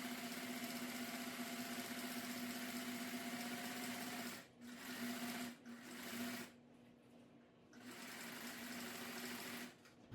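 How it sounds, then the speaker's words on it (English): A sewing machine stitches through quilt batting and top fabric with a close, continuous mechanical whir and tonal hum, pausing briefly a few times before running on again, no voices. "now I'm just gonna head over to the sewing machine and quilt my batting and top fabric together"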